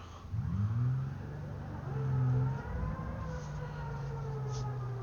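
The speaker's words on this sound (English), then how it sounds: "the reverse gear actually makes a lot of noise, which is rather impressive" In the BeamNG driving game, a 300-kilowatt truck's reverse gear gives a steady mechanical whine that rises and holds in pitch alongside a low engine drone as it moves slowly.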